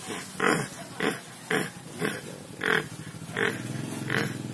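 A pig grunts in about seven rhythmic, evenly spaced bursts, each short and throaty, heard fairly close against a quiet background.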